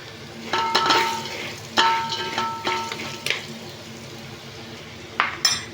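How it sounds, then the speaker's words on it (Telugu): Poha (flattened rice) fries in a pan while being stirred, with sharp clinks and scrapes of a spoon against metal every second or so over a quiet sizzle. "మనము అటుకులు అయితే వేసుకున్నాము ఇప్పుడే వేగుతున్నాయి మంచిగా వేగనిద్దాము"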